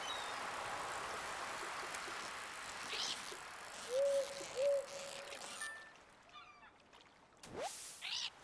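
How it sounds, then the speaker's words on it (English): Two soft, low owl hoots sound close together in a fantasy video game, following quiet ambient game noise and preceding a short louder swoosh. "I think I might like the owl sound better than the wolf sound."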